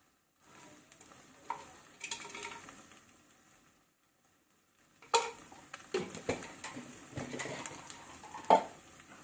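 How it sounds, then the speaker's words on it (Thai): Carbonara spaghetti is stir-fried in a pan with a little sugar added, giving soft sizzling with scraping stirs and metallic clinks of utensil on pan in two busy bursts separated by a quiet pause. "ผัดไปเลยนะครับ"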